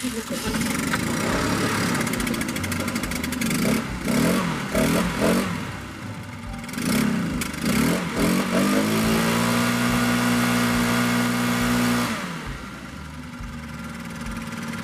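A Stihl backpack leaf blower engine, BR 600 or BR 800 model, runs steadily at about half throttle with a droning, slightly uneven tone. It fluctuates a little, then settles into a smoother hum before dropping off near the end.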